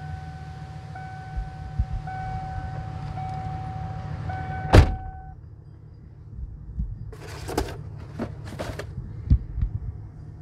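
Older car, its engine first cranked with the key turned three times, then started and left idling: a steady low hum with chimes early on, one sharp knock midway, and scattered clicks afterwards.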